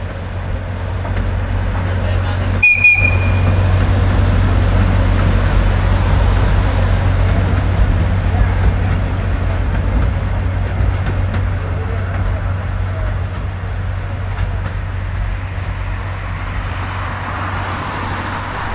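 A continuous low rumble of the Lartigue monorail train in Listowel running steadily along its track, with a brief sharp click early on and faint background talk.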